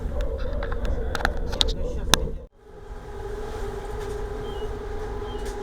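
A Moscow Central Circle train runs from Izmailovo toward VDNKh at around 95 km/h, giving a steady low rolling rumble from inside the carriage, with rattling clicks early on before the sound smooths out.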